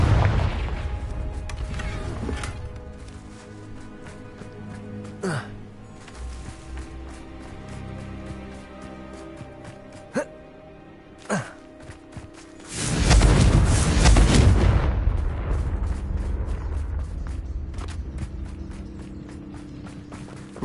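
Confringo fire-blast spell explosions from the Hogwarts Legacy video game: scattered sharp cracks and thumps early on, then a loud, roaring burst that lingers and slowly fades.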